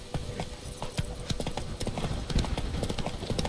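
Roach the horse's hooves clip-clop in The Witcher 3 in a steady, moderately close walking rhythm of many footfalls, with faint background ambience and no clear talk.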